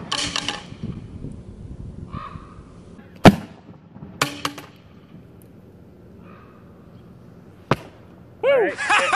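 Ejection charge test for an amateur rocket: a sharp, loud bang after a brief countdown, a second sharp crack a few seconds later, and an excited voice at the end, with some talk and outdoor noise around.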